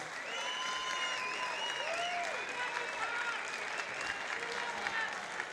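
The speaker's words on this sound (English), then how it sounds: "Ladies and gentlemen, massive round of applause for both of these men after an excellent and entertaining contest" After a fight between Luke Portanier and Thai Hoang, the crowd keeps up a steady roar of applause, with whistles and shouting voices mixed into the clapping throughout.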